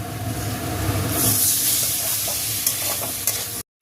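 Potatoes frying with spices in a hot pan, a loud continuous sizzle and hiss with occasional stirring scrapes, close up, ending abruptly.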